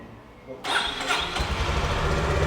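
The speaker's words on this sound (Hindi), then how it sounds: "आइए बाइक को स्टार्ट कर लेते हैं, इंजन साउंड सुन लेते हैं और एग्जॉस्ट नोट सुन लेते हैं।" Royal Enfield Bullet 350 or Honda CB350C 350cc motorcycle starting: a quiet lead-in, then the engine catches abruptly and settles into a loud, thumping exhaust idle close by.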